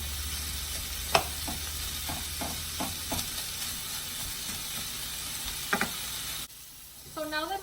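Sausages sizzle steadily in a frying pan with several clacks of a utensil stirring them, the sizzle running close and continuous before it drops away near the end, when a brief voice is heard.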